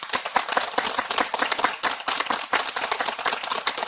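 A group clapping in unison during an outdoor qigong meditation gathering, with rapid, rhythmic claps repeating close by and steadily.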